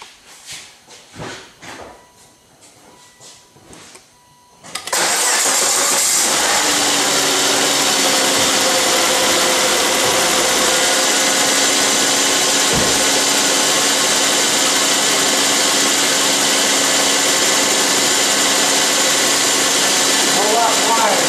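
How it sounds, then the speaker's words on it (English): A Volvo S80 engine cranks and catches after a few quiet seconds of handling noise, then runs loudly and steadily with a persistent high whine riding over the idle. "So let's start it up and see if it whines."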